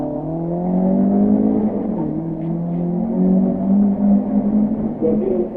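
A 1971 Lancia rally car pulls away from the start line, its engine revving hard through rising gear pitches, loud and close with a brief shift mid-run.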